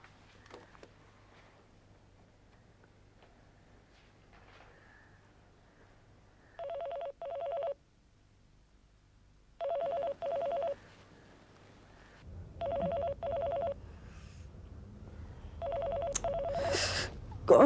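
Telephone dialed from a shop or counter at night: sparse key presses, then repeated paired ring tones spaced evenly over a low hum, with faint rustling and a louder ringing burst at the end.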